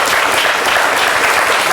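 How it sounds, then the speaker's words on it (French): Studio applause on a French television sports talk show, a dense, steady clapping that holds at full volume from start to finish without any speech. "Je sais pas si ça méritait des applaudissements."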